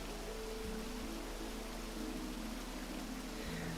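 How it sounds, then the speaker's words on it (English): Steady rain falls in Zora's Domain in Breath of the Wild, a constant even hiss of water with no pauses, heard alone at a moderate level. "Ah, the pristine sounds of Zora's domain. Where the fish people love the rain."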